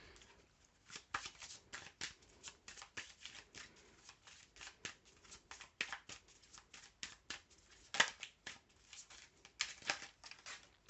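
Feeling cards for a daily card reading are shuffled by hand in quick, soft riffling bursts with brief pauses between them. The shuffling is close but quiet, with no talking.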